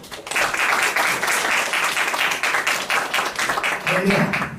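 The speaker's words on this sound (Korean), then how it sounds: "함께같이 박수로 박사님을 모시도록 하겠습니다." A church congregation at a worship service claps to welcome a guest speaker, a dense, steady burst of applause filling the whole stretch, with a voice faintly audible near the end.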